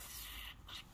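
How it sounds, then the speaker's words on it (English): Two short bursts of WD-40 aerosol spray hiss close by on a Suzuki GSX-R750 motorcycle, the second briefer than the first, with no voices. "now I'm going to neutralise it just by spraying, because you use WD-40"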